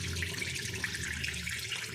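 Water runs steadily from a tap, a continuous close hiss and splash heard alone at a low level.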